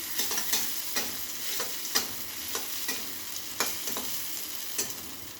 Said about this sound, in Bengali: গাজরটা আমার ভাজা হয়ে গেছে, আমি গাজরটা তুলে নিচ্ছি।